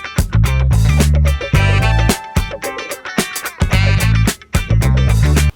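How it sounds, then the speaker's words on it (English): Ice cubes dropped into a plastic cup holding boba pearls for homemade bubble milk tea, a run of loud, close clattering clinks and knocks in quick irregular bursts. "Next, we're gonna add in our ice cubes."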